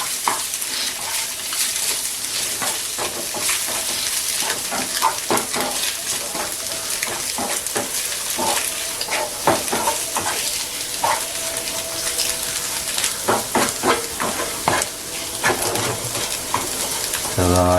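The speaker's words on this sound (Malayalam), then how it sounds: "ഒന്ന് ഇളക്കി കൊടുക്കാം." Cut boiled eggs are stirred in a hot pan for egg roast, giving a steady crackling sizzle with scraping strokes and clinks throughout. Faint talking runs underneath.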